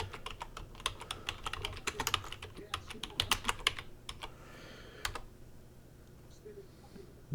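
Rapid typing on a computer keyboard, dense close key clicks in quick bursts for about five seconds, then stopping into quiet room tone.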